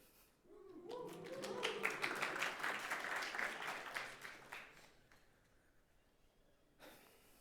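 A conference audience at a Rust programming talk breaks into a burst of clapping for the Rust Foundation, dense for a few seconds and then thinning out, with a few late claps at the very end.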